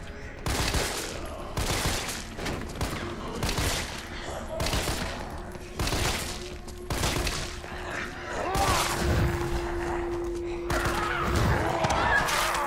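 Repeated bursts of gunfire from Resident Evil 3 Remake, loud and close, with rapid volleys and single shots spread across the clip and a sustained background tone between bursts.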